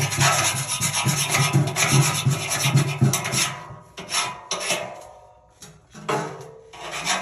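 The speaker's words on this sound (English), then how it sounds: "I'm going to clean the inside of the tank first because it got all that dust in there" Cleaning dust from inside a stainless steel water tank with a cloth or scrubber, loud close rasping rubs in quick repeated strokes, then slower scattered wipes with short pauses and a hollow metal resonance.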